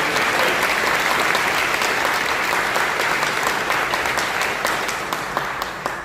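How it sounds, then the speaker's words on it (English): Audience at a city hall event applauding, a dense sustained clapping from many hands that holds steady and begins to thin slightly toward the end. "Let's give them a round of applause."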